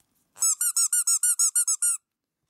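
An Anpanman character squeaky toy squeezed rapidly about ten times in a row, each short high-pitched squeak close and loud, then silence.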